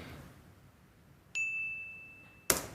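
A bell-like ding used as a sound effect in a film score rings out once with a clear, sustained tone that slowly decays, and a sharp clang cuts in right at the end.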